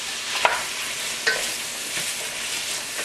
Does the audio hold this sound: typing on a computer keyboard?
no